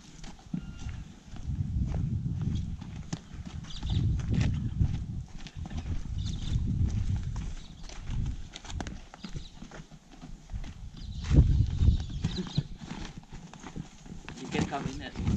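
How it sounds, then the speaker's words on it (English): A horse walking at a wildlife sanctuary in Australia, its hooves clip-clopping in an uneven close series, with people talking throughout. "Now we are giving the horse food."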